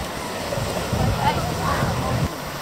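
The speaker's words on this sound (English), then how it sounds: "Say bye-bye to the ocean" Ocean waves wash in a steady, rushing roar with gentle surges, while voices talk faintly over the surf.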